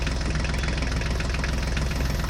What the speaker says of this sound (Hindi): हमें भी इस बड़ी सी ट्रैक्टर गाड़ी को लेकर उस सांप के पीछे चलना है।